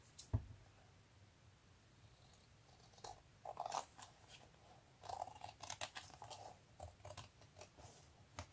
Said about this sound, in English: I also need to cut off a little strip on this side.